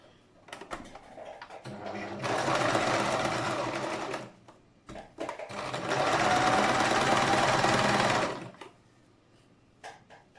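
Sewing machine stitching hat pieces together in two long, loud runs separated by a brief stop, with soft handling clicks before, between and after.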